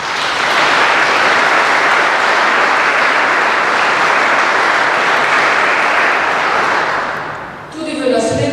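Loud, dense applause for local societies fills a mayor's New Year reception, a continuous roar of clapping lasting several seconds before it fades and a voice begins speaking.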